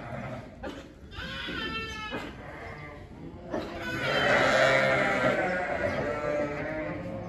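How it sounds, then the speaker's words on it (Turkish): Early-born lambs bleat loudly and repeatedly in a farm pen, with overlapping calls that swell and grow denser toward the end, close by and with no speech. "Bunlar erken doğan kuzular arkadaşlar."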